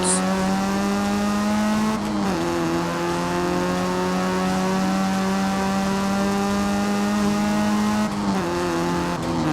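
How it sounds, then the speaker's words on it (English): A steady generic four-cylinder car engine sound in Forza Horizon 5 drones at a constant pitch, with two brief gear-shift dips where the tone drops and climbs again. No talking. "with every exhaust option it uses generic 4-cylinder sounds"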